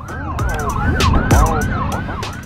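An ambulance siren wails up and down in rapid repeating sweeps, loud and close, with road noise and a low vehicle rumble beneath.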